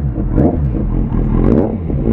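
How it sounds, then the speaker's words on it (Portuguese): Kawasaki Z800 motorcycle fitted with a Jeskap carbon exhaust, its engine rumbling steadily and loudly up close, with a brief rev swell and no talk over it. "Z800 de novo no canal. Hoje com ponteirinha."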